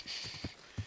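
Faint horse hooves clip-clop in Kingdom Come Deliverance 2, with a few soft, uneven steps spread across under a second.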